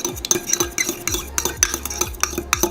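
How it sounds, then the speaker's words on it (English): Eggs and vanilla extract whisked in a bowl, a brisk run of close scraping, clinking strokes repeating several times a second, loud and alone. "add 2 eggs. Add 2 teaspoons of vanilla extract. And simply give it a whisk."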